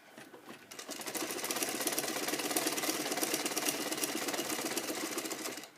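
A sewing machine runs steadily while stitching fabric toward a corner, giving a dense, continuous mechanical whirr that starts after a brief pause and stops near the end, with no talking.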